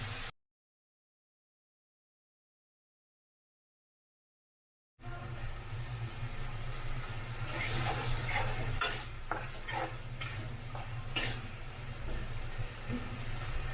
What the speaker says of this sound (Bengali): চিংড়ি মাছগুলো দিয়ে ভালো করে একটু কষিয়ে নেব।